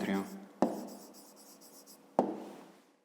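Pen or pencil scratches across paper while an answer is written down for a fifth-grade maths exercise, two sharp taps marking strokes amid a soft continuous scribble, close and quiet with no talking.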